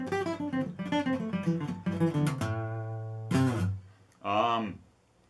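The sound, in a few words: guitar playing pentatonic groups of three in reverse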